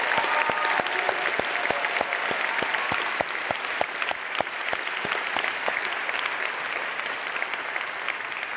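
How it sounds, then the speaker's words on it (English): Sustained applause from a large commencement audience at a high school graduation, many hands clapping steadily throughout, with a few sharp louder claps standing out near the front. "Please give them a round of applause."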